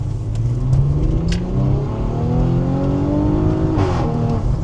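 Stage 2 tuned Audi SQ5, a 420-horsepower midsize SUV, accelerating hard at full throttle, its engine note climbing steadily through rising harmonics with a gear shift near the end, loud and close from inside the cabin.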